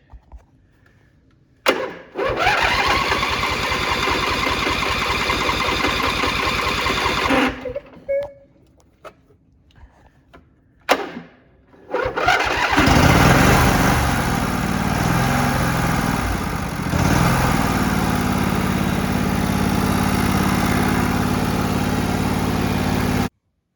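A Craftsman lawn tractor engine, being taken off choke, cranks and fires up, cuts out briefly, then restarts and runs steadily and loudly at a constant idle for the rest of the time.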